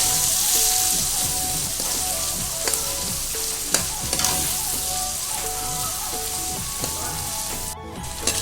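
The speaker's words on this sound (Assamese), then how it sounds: "পিঁয়াজখিনি ৰঙচুৱা হোৱালৈকে অলপ ভাজি লওঁ" Chopped onions with green chillies sizzle steadily in hot oil in a pan, a dense continuous crackle with occasional clinks of a stirring spoon, close and moderately loud, with no talking.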